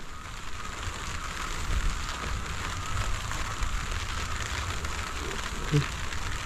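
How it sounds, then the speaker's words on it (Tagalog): Steady rain falling on a surface, a constant soft patter with faint low rumbling underneath, continuous throughout. "Umuulan na naman."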